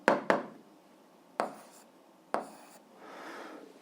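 An algebra equation is written out on a surface, with a few sharp taps followed by short scratchy writing strokes, close and fairly quiet.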